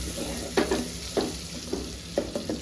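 A large spoon stirs homemade spice masala in a pan, making a few distinct scraping strokes at an uneven pace over a faint background sizzle, close and quiet.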